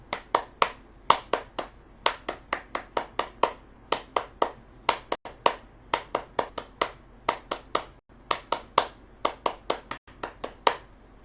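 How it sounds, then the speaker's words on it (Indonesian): A Pramuka scout clapping pattern done three times over: rapid rhythmic hand claps in repeated phrased bursts with brief pauses between rounds, close and distinct, with no talk. "3 kali tepuk pramuka."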